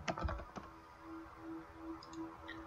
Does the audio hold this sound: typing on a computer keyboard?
yes